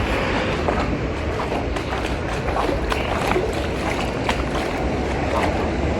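Released water rushing down into a drain, a loud, continuous broadband roar and splash heard up close without a break.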